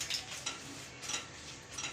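A utensil stirs and scrapes roasting chilies and coriander seeds in a pan, with a few quick light clinks and rustles at an irregular pace, quiet and close, no talking.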